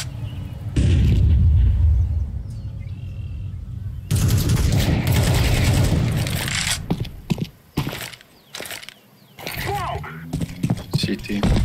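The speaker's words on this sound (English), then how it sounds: "Flashbang." A loud flashbang grenade bursts in a tactical shooter game, followed by a long roar of gunfire and mechanical clatter, with voices calling out over the action.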